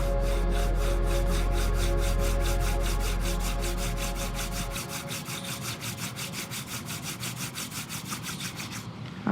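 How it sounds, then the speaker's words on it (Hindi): Two hands rub together briskly during a meditation exercise, making close, rhythmic dry strokes that repeat evenly and slowly fade in loudness, with no talking over them. "अपने दोनों हाथों को रब करें"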